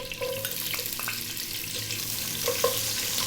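Chopped onion dropped into hot oil with green cardamom pods and curry leaves, giving a continuous bright hiss and sizzle, close and fairly loud, with a few faint utensil clicks and no speech.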